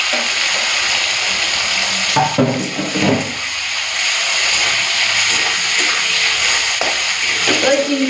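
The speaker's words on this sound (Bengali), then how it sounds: "এখন চিকেন মাছটা ভেজে নেব" Fish pieces fry in hot oil in a home kitchen, a steady broadband sizzle with occasional clatters and stirring knocks and a brief voice.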